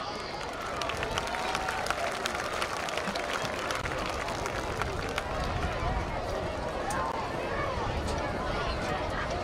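A crowd in the stands at a high school football game applauds, a continuous distant wash of clapping and crowd noise that holds steady, with someone speaking over a loudspeaker.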